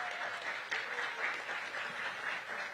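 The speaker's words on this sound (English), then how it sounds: "So let's give them a big round of applause." An audience gives a round of applause at a DMV Black Restaurant Week kickoff event, a steady, fairly faint wash of many hands clapping that continues evenly throughout, with no talking over it.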